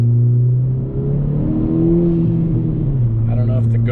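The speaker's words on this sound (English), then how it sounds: "when you're in the car, the intake is plenty loud" A 10th-generation Honda Civic Si with a PRL short ram intake revs from inside the cabin, a steady low engine drone rising and falling in pitch, loud and close, with music playing faintly underneath.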